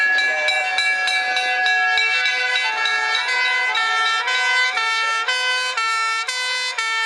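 A vintage Dennis fire engine with a Merryweather ladder passes at a vintage and country show, giving off loud, sustained tonal wails that step upward and downward in pitch with no pause.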